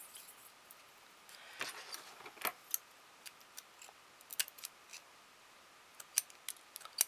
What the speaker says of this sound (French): Je suis en train d'abîmer mes ciseaux.